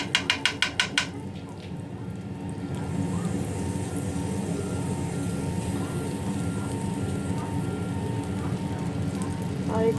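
Butter added to a hot pan sizzles in a steady, close, crackling hiss that rises and holds. A few sharp taps come just before it, and no one talks.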